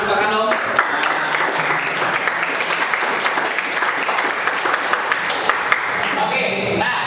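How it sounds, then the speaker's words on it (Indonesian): Students applaud in a mining geology engineering classroom, a steady dense clapping for several seconds that trails off near the end as talk resumes. "Beri tepuk tangan dong."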